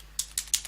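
Three crisp keystrokes on a computer keyboard at a Linux command line, evenly spaced and close, over a faint steady hum.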